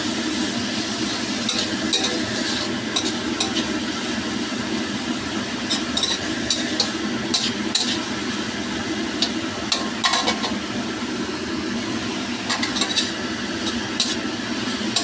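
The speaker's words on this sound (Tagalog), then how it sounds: "Tuloy lang natin siyang halu-haluin para hindi masunog yung ating vegetables." Vegetables and pancit canton noodles are stir-fried in a pan, giving a steady sizzle under repeated scraping and clinking strokes of a utensil against the metal, continuous and close by.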